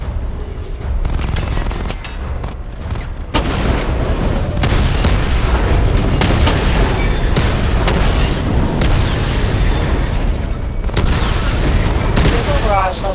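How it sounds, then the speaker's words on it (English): Missile barrages in Batman: Arkham Knight set off loud, dense volleys of booming explosions and rapid popping blasts that keep going for most of the stretch, with a synthetic voice speaking at times. "Charge the missile barrage to level 2 to destroy up to 4 targets at once."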